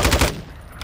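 A rapid burst of video game gunfire, about four loud, close shots in quick succession, then a short fading tail.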